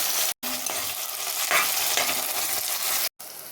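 Tomato, onion, garlic, sweet pepper and hot pepper frying in oil give off a loud, steady, close sizzle with stirring, broken by two brief silent gaps.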